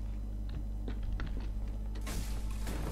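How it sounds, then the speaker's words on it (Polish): An elevator runs in the video game Batman Arkham Knight: a string of mechanical clicks and creaks, then a louder whooshing rush, all over a constant low drone. "Winda działa."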